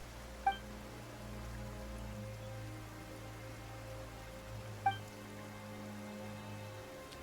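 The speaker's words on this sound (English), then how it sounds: "Why is it raining all of a sudden?" Steady rain patters on surfaces in the Genshin Impact game world, a soft continuous wash with low ambient drones beneath and two brief chime-like accents, no voices.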